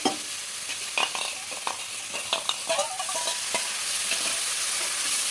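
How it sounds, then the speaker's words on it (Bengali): A spice paste mixed with sour yogurt and a splash of water sizzles in a pan for hilsa biryani, while a spatula scrapes and stirs in repeated strokes close by. No voices are heard. "দিয়ে মশলাটা আরও ভালো করে কষিয়ে নেব"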